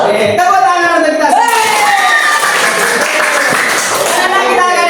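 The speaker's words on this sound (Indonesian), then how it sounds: "tepuk tangan untuk kita" A classroom group claps hands together during an Islamic education teacher-training session, the clapping blending with children's voices and chatter that carry over it.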